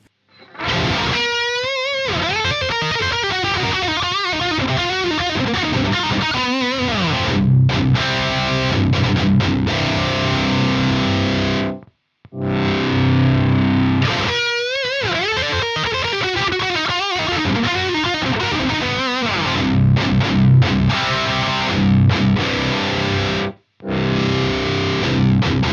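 Overdriven electric guitar through an EVH 5150 III Stealth amp, thick distorted chords and riffs played continuously with two brief stops, loud and alone without voices.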